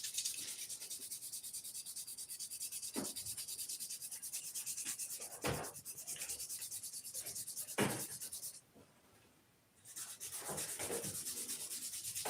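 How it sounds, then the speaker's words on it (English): Sandpaper rubbing a wooden model airplane rudder in steady back-and-forth strokes, close and fairly quiet, with a brief pause near the end before the rubbing resumes. "Now I'm just doing the normal sanding, more sanding."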